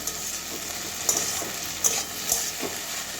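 A spatula stirs garam masala through okra frying in a pan, giving a steady sizzle broken by several sharp scraping clinks against the metal.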